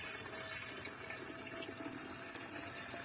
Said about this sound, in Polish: Teraz uzupełniam to wodą.